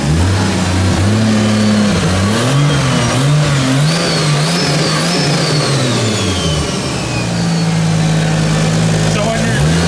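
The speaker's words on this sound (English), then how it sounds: "Listen to that turbo." A Nissan S14 with a turbo engine, its supercharger removed, revs up and down repeatedly in wavering surges, with a turbo whistle rising over the engine before it settles toward idle; loud and close.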